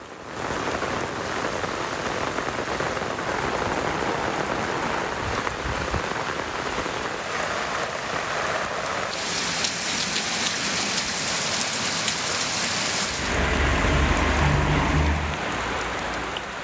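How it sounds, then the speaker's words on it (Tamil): Heavy, sudden rain pours down in a steady, dense hiss on surfaces outdoors, loud and continuous throughout, with a brief low rumble near the end and no voices. "திடீரென கனமழை பெய்ததால் கடந்த சில நாட்களாக நிலவி வந்த வெப்பம் தணிந்து இதமான காலநிலை நிலவி வருகிறது"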